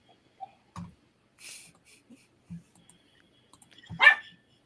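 A dog gives a few short, sparse barks and low huffs in a quiet room, scattered across the moment and ending with a sharper, louder bark.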